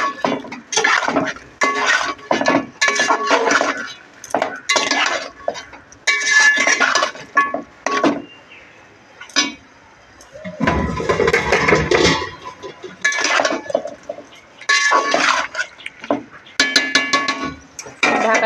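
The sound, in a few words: stirring and frying meat with chili powder in pot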